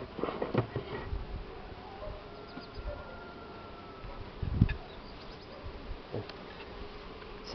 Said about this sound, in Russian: Слышно, пчелы шамачат по меду уже.